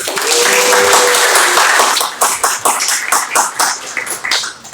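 A group claps together after a speech, a dense burst of applause that thins into scattered, uneven claps.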